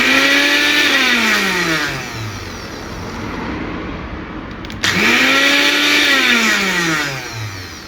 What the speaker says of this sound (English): we've plugged in a Kenwood smoothie maker